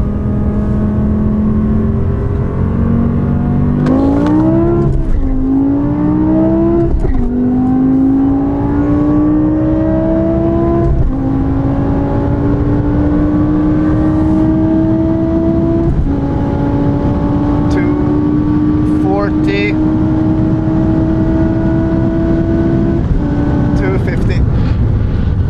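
Family sedan accelerating hard at full throttle toward cones at a Koenigsegg track event, the engine note climbing through repeated rising pulls with brief dips between gear changes, loud and close, with voices talking over it.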